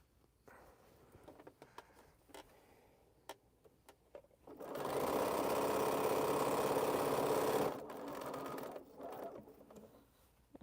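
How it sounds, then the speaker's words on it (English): Sewing machine stitching pieces of a Scattered Stars quilt, a steady, loud continuous run of about three seconds, framed by quieter handling clicks and rustles before and after. "I'm about to sew it to the bottom of this."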